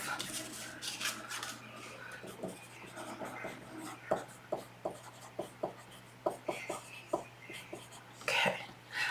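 Pencil writing by hand on paper, a series of quick scratchy strokes in an uneven rhythm, close and fairly quiet, with faint breathy voice sounds in places.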